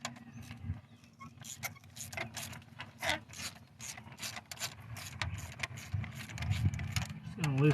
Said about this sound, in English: Just gonna loosen all these up to the point where I can probably just put my socket in there and twist them out.